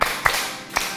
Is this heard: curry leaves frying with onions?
no